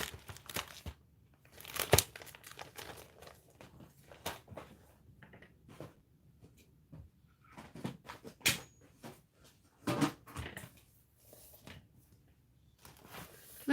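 A folder of artist trading cards being handled, close plastic crinkles, soft taps and rustling in scattered short bursts with quiet gaps between them.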